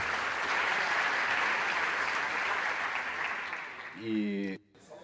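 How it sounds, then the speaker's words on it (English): Audience applause at a cultural organisations event, a dense, steady wash of clapping from a crowd that carries on for about four seconds, then a voice speaks briefly before it cuts off. "this round of applause is to you"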